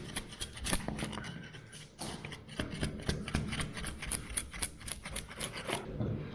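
A chisel scraping and trimming plaster ceiling moulding: rapid, close rasping strokes in an uneven rhythm, fairly quiet, with no talking.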